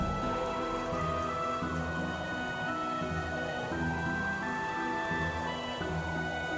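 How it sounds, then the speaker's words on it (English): Rain falls in the video game Trails in the Sky the 3rd as a steady, even patter, with soft sustained musical tones running underneath. "You didn't have to come out here in the rain."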